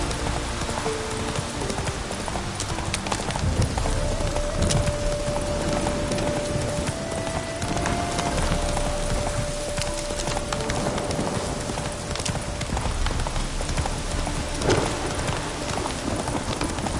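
Roach, the horse in The Witcher video game, gallops with steady, close hoofbeats. A constant wash of rain runs through the whole clip, and there is no talk.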